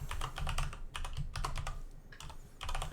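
Close, clicky keystrokes on a computer keyboard as Java code is typed, coming in quick bursts with brief pauses between, with no talk.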